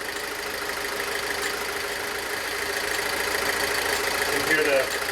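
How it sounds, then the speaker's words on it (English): A Pontiac Solstice idles steadily with the in-tank pump fuse pulled while the high-pressure fuel pump runs faster as the engine starves for fuel, a faint, even hum and whir. "You can hear the high pressure fuel pump starting to run faster."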